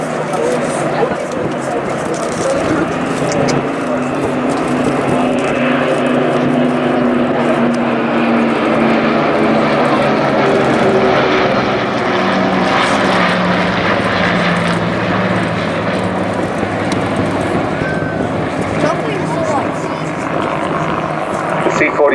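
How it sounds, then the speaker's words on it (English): The RAF's C-47 Dakota III ZA947, the last of its type in service, displays at Blackpool Airshow, its piston propeller engines droning steadily and loudly throughout, with a commentator's voice talking over the aircraft noise. "C-47 Dakota 3, Zulu Alpha 947 that we see displaying here today is the last of its type serving with the Royal Air Force"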